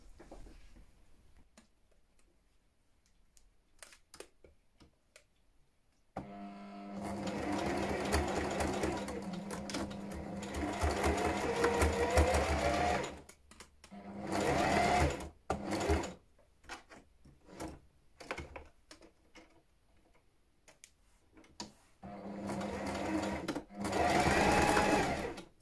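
A sewing machine stitches a narrow zigzag on a bra, running in several bursts of steady rapid mechanical whirring separated by quiet pauses.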